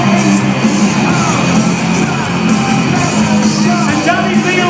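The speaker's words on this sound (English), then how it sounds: "Clap your hands for Jimmy Squibb." Crowd at a monster truck show in Odsal Stadium cheering, whooping and yelling, a loud, continuous roar with scattered shouts and bangs, while an announcer's voice booms over it.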